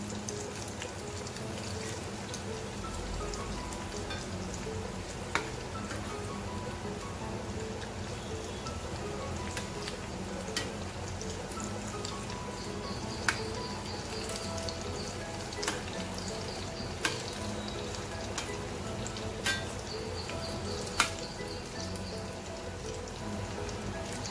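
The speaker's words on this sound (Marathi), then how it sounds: "एकदम बारीक गॅसवरच तळायचं छान खरपूस ब्राऊन होईपर्यंत तळायची वडी" Coriander vadi (kothimbir vadi) deep-fries in oil over a low gas flame, giving a soft, even, rain-like crackle with occasional sharper pops spaced every few seconds.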